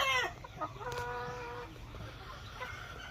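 Darag native chicken crossed with Rhode Island Red hens clucking close by, a quick run of short calls at the start followed by a few drawn-out tonal clucks, with background farmyard noise.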